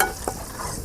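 Whole garlic cloves are stirred while frying in a pan, a brief close sizzle with one soft scrape under it.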